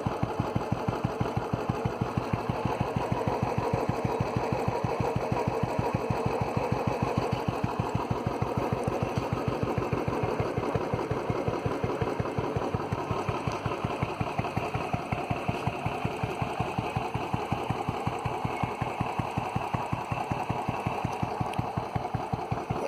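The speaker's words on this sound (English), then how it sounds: "I actually like the sound of Redrooster" A Royal Enfield Standard 350 motorcycle with an aftermarket Red Rooster exhaust idles with a steady, rapid exhaust pulse, a low even putter that holds constant the whole time with no voices.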